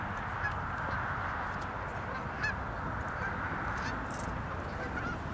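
Geese honk sporadically in the distance, faint calls rising over the constant loud whirring hum of a nearby drone.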